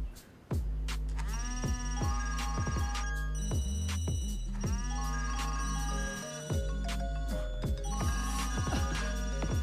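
Many phones ring at once in an overlapping jumble of electronic ringtones and chimes, loud and continuous, with no voices.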